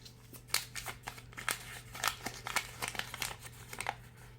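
A sheet of paper handled and crinkled by hand indoors, soft irregular rustles and crackles close by over a low steady hum, with no talking.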